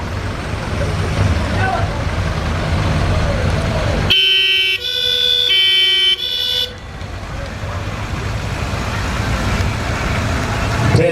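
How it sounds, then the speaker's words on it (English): A Charlton Fire Brigade fire truck rolls past in a street parade, its engine rumbling under a long, loud multi-tone horn blast that sounds for about two seconds, while a commentator talks over the noise throughout. "Another Charlton fire truck here,"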